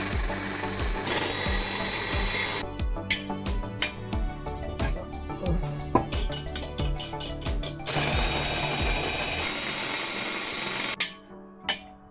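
A power drill grinds into metal on a Ford F-150 exhaust, drilling holes for sensor bungs, with a rough, rattling whine that starts, stops and restarts, loud and close, with clanks between bursts.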